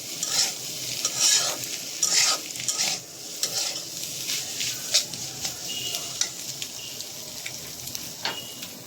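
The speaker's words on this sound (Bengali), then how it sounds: "এখন রোস্টগুলো দিয়ে দিচ্ছি।" Roast meat and egg stirred and fried in a pan, with repeated scraping strokes over a steady close sizzle and no talking.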